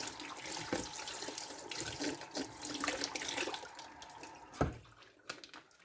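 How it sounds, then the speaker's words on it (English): Warm tap water runs over broken porcelain as it is rinsed, a close, steady stream broken by a few sharp splashes and clinks, with no talking. "So now I'm just going to rinse in some warm water."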